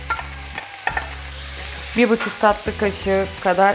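Peppers and tomatoes for çoban kavurma sizzle and fry in a pan while being stirred quickly, a close, steady crackle with scraping strokes beneath a cook's speech.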